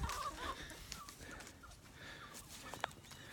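Chickens on a homestead cluck faintly in the distance over a quiet outdoor background, with one brief sharper squawk near the end.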